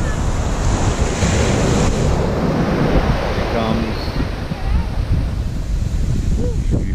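Ocean surf washing up on Maho Beach in St. Maarten, a steady loud roar of breaking waves with heavy wind buffeting the microphone throughout.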